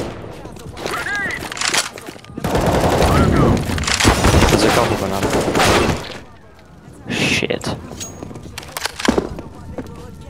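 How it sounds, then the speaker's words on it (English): In a video game a grenade is thrown and goes off. There is a loud burst with heavy crackling gunfire-like blasts, and then more bangs, under excited talk. "I am throwing a grenade."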